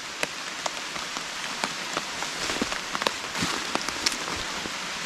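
Steady rain patters onto a tarp shelter outdoors, a dense continuous hiss broken by scattered louder drops striking the fabric close by.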